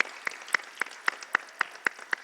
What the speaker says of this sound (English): all the Dress for Success students, a big round of applause